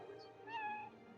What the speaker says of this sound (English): We have a kitty.